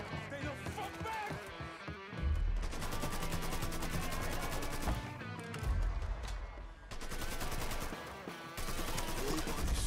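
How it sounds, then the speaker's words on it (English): Gunfire in the Mafia 3 video game: dense, continuous bursts of automatic and rapid shots, loud and close, with brief lulls between volleys. "Shots came from that away."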